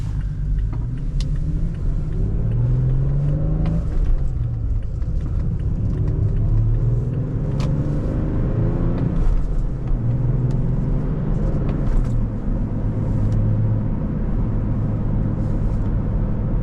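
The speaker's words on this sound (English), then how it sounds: "This has the good old V6 in it. Love this motor." A 2019 Toyota Tacoma TRD Sport with a V6 engine and a manual gearbox is driven on the road, its loud steady engine rumble climbing and dropping in pitch through gear changes over constant road noise, with no speech.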